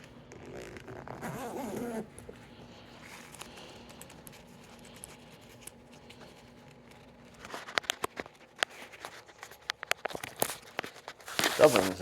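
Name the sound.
undoing zippers on car seat back cover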